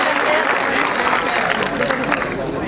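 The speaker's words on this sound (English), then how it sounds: "Give a clap for them." Classroom audience clapping for a winning team in an English lesson, a dense steady patter of applause filling the short stretch with some murmuring voices mixed in.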